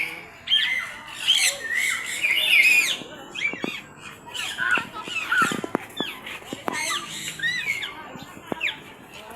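Rescued birds squawk loudly at a wildlife rescue center in Quezon City, with harsh overlapping calls, clucking notes and sharp clicks crowding together nearby.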